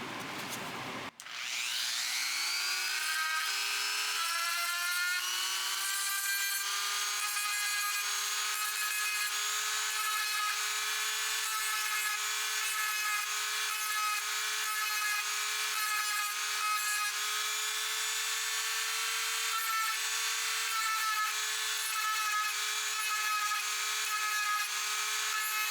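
A small rotary sanding drum whines at high speed while grinding the metal handle of vintage Boker needle-nose pliers, a continuous close buzzing rasp with slight pulsing as pressure changes.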